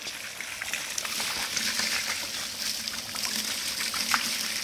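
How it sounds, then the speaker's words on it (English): Warm water runs steadily over a Valais sheep fleece being washed, a continuous close trickling and splashing wash with no talk. "this is why I like using warm water, because it does take a lot of the dirt out of the fleece"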